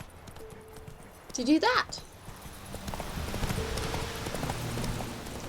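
Horse hooves clip-clopping in The Witcher 3: Wild Hunt, a short whinny then a steady trot building under a voice.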